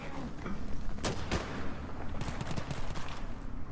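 Battlefield 3 gunfire rattles in dense bursts, with sharp close shots and rapid machine-gun volleys over a rumbling background.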